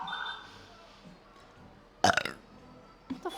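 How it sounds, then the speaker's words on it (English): A loud, wet burp erupts abruptly and lasts about a quarter second, followed a moment later by a shorter, weaker belch, with quiet room noise before it. "That burp didn't sound nice."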